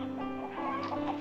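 A chicken clucks in a short, steady run of throaty calls, close and clear, with no speech.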